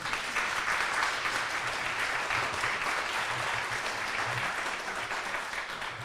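Warm, sustained applause from an audience at a historical society's annual meeting, dense clapping holding steady throughout with a faint murmur beneath.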